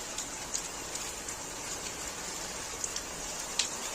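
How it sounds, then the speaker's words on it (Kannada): Rain falling at dawn in Mangaluru, a steady broadband hiss with scattered louder drop ticks, even and continuous throughout with no voices. "ಮಳೆ ಬರ್ತಾ ಇದೆ"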